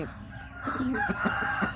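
A rooster crows nearby, its drawn-out call rising and falling, with some clucking and low background noise.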